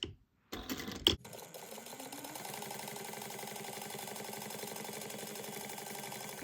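A sewing machine top stitches a fabric slip pocket with a steady, continuous mechanical whir after a brief start-up, running close and evenly with no talk.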